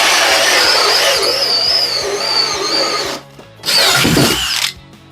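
A power drill bores a hole through a wooden board in a woodshop, producing a loud high-pitched whine that rises and falls, drops briefly near the end, then surges again before stopping.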